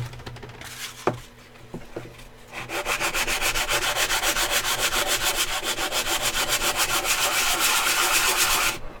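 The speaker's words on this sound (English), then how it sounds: "When I'm sanding flat like this, even though it looks like I'm applying even pressure" A couple of knocks, then rapid rhythmic back-and-forth sanding strokes on wood, close and steady for several seconds.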